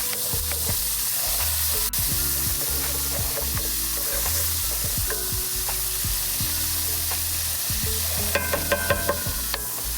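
Celery and onions frying in a sausage pan, a steady close sizzle broken by repeated metal scraping strokes of a utensil across the pan bottom, with a few sharp clinks near the end.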